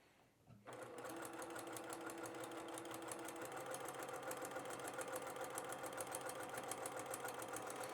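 A sewing machine stitches a fabric seam, starting up after a brief pause and settling into a steady, fast, close mechanical whir with a rapid needle rhythm that runs to the end.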